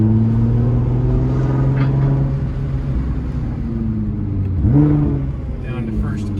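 Nissan R35 GTR with full bolt-ons, E85 fuel and a valved exhaust, revving at wide open throttle: a loud steady engine drone rising in pitch, with a sharp rev swell near the end and voices talking over it.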